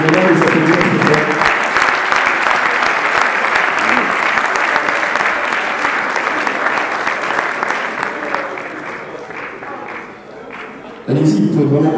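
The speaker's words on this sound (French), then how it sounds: "je vais demander à l'équipe WIN, si vous voulez bien me rejoindre sur scène, et vraiment les applaudir très fort" Loud, sustained applause from a conference audience at a cybersecurity hacking challenge award ceremony, dense clapping throughout with a voice briefly over it near the end.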